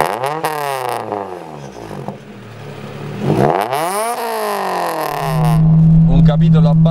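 A Honda Integra Type R with a Spoon exhaust revs hard through rising and falling sweeps, then settles into a steady loud drone, close and dominant.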